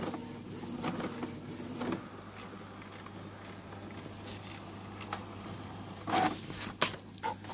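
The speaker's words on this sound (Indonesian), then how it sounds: "Kita lepas dan kertas langsung jalan untuk tes print." Canon MG2570S inkjet printer running a manual test page: a quiet whirring feed motor with soft mechanical ticks and a few louder clunks near the end as the paper moves through.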